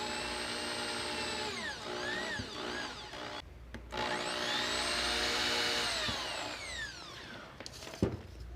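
A drill bores diagonal holes into a wooden bracket (a rustic wood corbel), giving a close, sustained motor whine that rises and falls in pitch, with a short pause and a sharp knock near the end.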